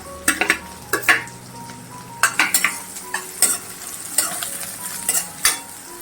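Finely chopped onion and curry leaves fry in a pan for Maharashtrian pithla, with a soft sizzle underneath. A spoon stirs and knocks against the pan in irregular bursts, close by and with no speech.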